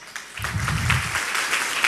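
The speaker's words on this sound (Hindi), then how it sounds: "साथियों, ये सक्सेस सपोर्ट सिस्टम के लिए एक जोरदार ताली हो जाए।" An audience claps for a speaker on stage at a business event, the applause rising after a brief pause into steady, moderately loud clapping with some low rumble beneath.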